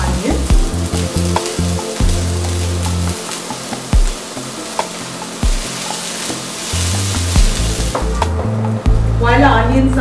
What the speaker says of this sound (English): While our onions are cooking here